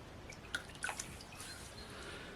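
A few faint drips and small splashes sound as hands are wetted in a bowl of water, with a couple of quick droplets landing close by in a quiet kitchen.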